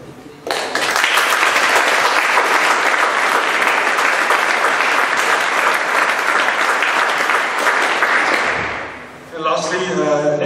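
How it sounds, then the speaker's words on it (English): Sustained, loud applause from a conference audience honoring the attendees, a dense crowd clapping steadily for several seconds before easing off, with a brief burst of chatter or cheering at the very end. "So I want the last round of applause for the attendees of the conference"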